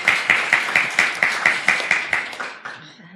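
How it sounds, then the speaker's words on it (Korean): An audience at a Korean panel discussion claps in a steady, rhythmic unison, about a dozen crisp beats close together that gradually fade out toward the end. "박수 한번 칠까요?"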